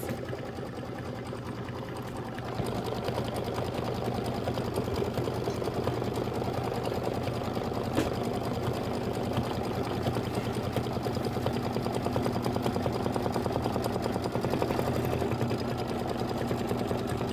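An embroidery machine stitches a bucket detail on fabric, a steady rapid mechanical whirring and tapping that rises in level after a couple of seconds and runs on continuously, close and even.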